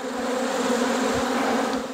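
Honey bees buzz around an open kitchen hive during an inspection, a steady close drone with a layered hum, loud and continuous, with a couple of soft knocks and no talking.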